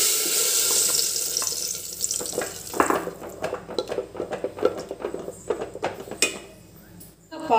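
Roasting in ghee in a pan: a soft frying sizzle under a run of quick clinks and scrapes of a spoon against the pan, close and moderately loud, with no talk.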